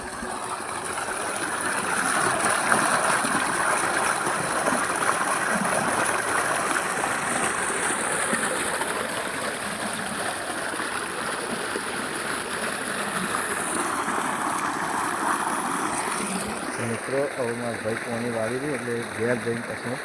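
Water runs in a steady, loud rushing stream with no break, and voices talk over it throughout.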